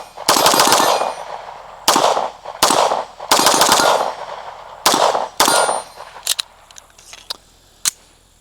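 A Fusion Firearms XP-Pro 2011 pistol firing rapidly on a range at steel targets, with loud close shots in quick strings and pairs, then a few fainter sharp cracks and metallic pings trailing off.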